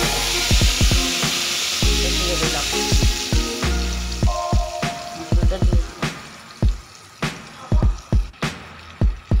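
A spice mixture with black cumin sizzles in hot oil in a wok, with a steady frying hiss broken by sharp, irregular crackles and pops that grow sparser and louder toward the end.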